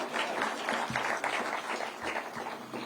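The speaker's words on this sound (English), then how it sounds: "So we need to give that Jogoo a round of applause." A crowd applauds at an outdoor environment ceremony in Kenya, with steady, dense clapping that holds at moderate loudness throughout and has no speech over it.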